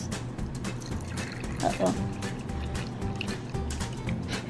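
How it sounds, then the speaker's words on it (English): Water poured into a cup while making edible jello slime, a soft splashing trickle mixed with handling noise, and someone speaks briefly during the pour. "I'm gonna put a 1 scoop of water in here."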